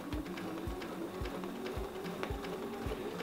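A sewing machine stitches steadily during ruler quilting, a fast, even mechanical chatter with regular low thumps of the needle, heard close and alone.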